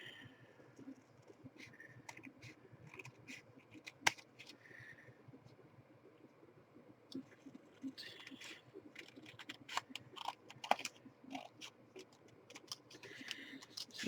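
Scissors cut out paper packaging tags, giving a sparse run of small snips and paper rustles close by, busier toward the end, with faint background noise.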